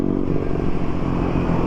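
Honda CBR 125 motorcycle with an aftermarket exhaust runs steadily and close, giving a continuous buzzing engine note with a light clattery edge.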